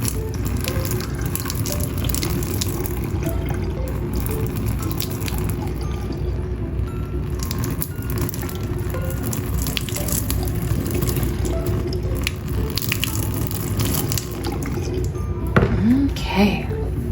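Boiling water is poured slowly over a Barbie doll's nylon hair, a steady trickling and splashing of hot liquid that runs throughout, with a few light clinks and squishes near the end.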